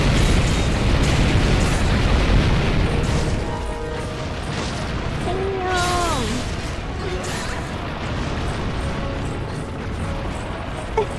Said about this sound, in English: You packing the cannons on the side?